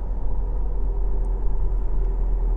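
A car drives steadily along a rural road in Pa Tio district, Yasothon province, Thailand, its engine and tyre rumble a constant, close, low drone with no talking.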